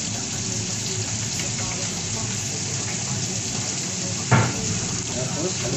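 A sauce mixture with sugar and salsa being stirred, a soft continuous wet swishing with a single clunk midway, under faint background hiss.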